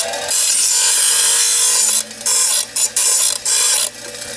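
An angle grinder works a light aluminum gutter piece in a spark test, running as a loud, steady, high-pitched whine with several brief dips as the disc lifts off the metal, with no talk.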